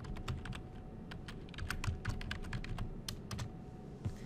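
Someone types a name on a computer keyboard in a steady run of quick, light key clicks, close but quiet, with no one talking.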